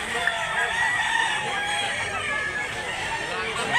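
Lemon Sweater gamefowl rooster crowing near at hand in Mantalungon, Cebu, in a sustained strained call that carries through the whole stretch against a busy outdoor background.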